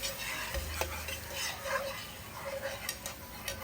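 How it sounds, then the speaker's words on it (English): Half and half is stirred into a roux for stovetop macaroni and cheese, giving a soft, continuous scraping and bubbling from the pot, fairly faint and close, with a brief low thump near the start. "I am going to gently add my half and half to the roux."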